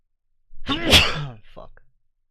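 A single close, forceful human sneeze with a sharp intake and burst, followed by a brief breathy tail.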